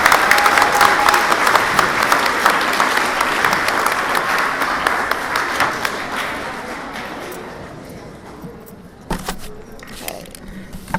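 Audience applause fills a school auditorium at a 7th grade award ceremony for honor roll recipients, a dense wash of clapping that gradually thins and fades, with a few scattered claps near the end.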